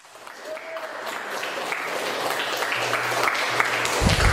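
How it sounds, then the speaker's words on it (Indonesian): A student audience at an Islamic boarding school film event claps, the applause building gradually from quiet to a fuller, louder patter over several seconds. "Beri tepuk tangan"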